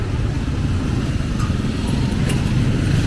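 Road traffic on a noisy street in Balibago, with a constant loud, close rumble of engines from passing motorcycles and cars and no speech.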